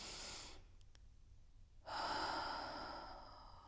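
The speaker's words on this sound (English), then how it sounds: "I want you now to take a deep breath in." One slow, deep breath during an abdominal back-pain relief exercise: a soft inhale, a brief pause, then a louder, longer, airy exhale close to the microphone.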